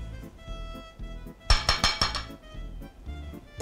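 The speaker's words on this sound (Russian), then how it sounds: "И опять все перемешиваем." A spoon clinks and scrapes in a bowl while minced meat, raw rice, salt and pepper are mixed for stuffed cabbage rolls; a quick burst of clinks in the middle stands over steady background music.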